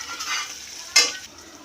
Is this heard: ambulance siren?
no